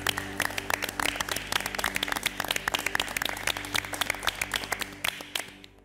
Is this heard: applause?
yes